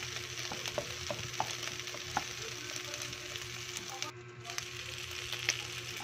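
Garlic sautés in a little oil in a pan, giving a steady close sizzle with scattered light pops and ticks throughout, no talking.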